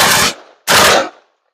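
An M16A2 rifle fires two loud, close bursts of gunfire outdoors at a range, each burst a sharp dense blast lasting about a third of a second, separated by a brief gap with ringing decay.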